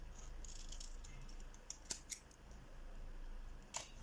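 Scissors trimming a thin black line from a paper craft piece, heard as a few faint, crisp snips and clicks, two close together in the middle and one more near the end.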